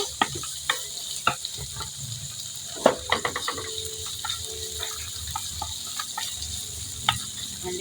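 Garlic and then onion sautéed in a pan for a Filipino pork pata dish, giving a steady low sizzle broken by sharp clicks and scrapes of a utensil stirring against the pan, close up, with no talking.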